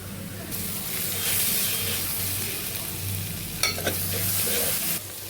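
Onions with ginger-garlic paste fry in a pan with a steady, loud sizzle and hiss, stirred now and then, with a brief clatter of a utensil near the end.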